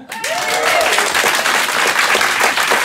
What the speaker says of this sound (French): ce soir, sous vos applaudissements, nous recevrons Benjo